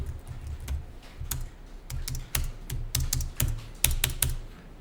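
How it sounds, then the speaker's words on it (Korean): Rapid, irregular clacking of keys on a computer keyboard during accounting data entry, close and clear with no talking, the taps arriving in quick uneven bursts. "확인 단추를 누르거나 키보드의 탭키를 눌러서 입력을 완료합니다"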